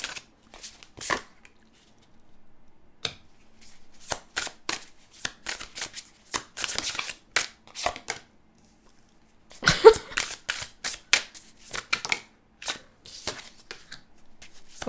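Tarot cards are drawn and laid out close by, heard as crisp bursts of card shuffling, snapping and sliding at an irregular pace with short quiet gaps between them, and no talking.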